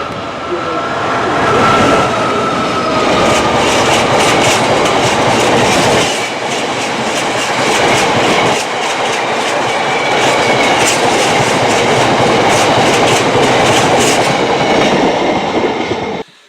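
A passenger train hauled by a Class 86 electric locomotive rumbles steadily along the rails, loud and close, with a continuous roar and faint rhythmic clatter throughout.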